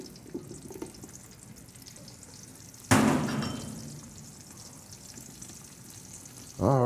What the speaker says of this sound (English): I'm going to add a little onion to the pot.